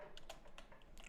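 Keys on a computer keyboard tapped in a short burst while a terminal command is entered, several light clicks in quick succession, close and fairly quiet with no talking.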